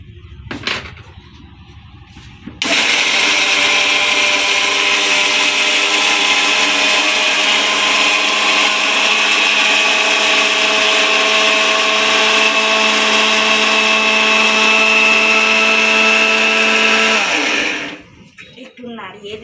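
A blender grinds green chillies into powder with a loud, steady motor whine that runs for about fifteen seconds, then winds down and stops; brief quieter sounds come before and after it.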